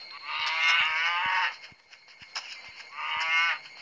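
A cow in the mobile game Dumb Ways to Die 2 lets out two long, nasal moos separated by a short pause, fairly close and loud, with light clicks in between.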